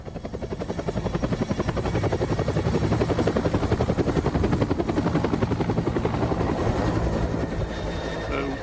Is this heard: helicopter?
yes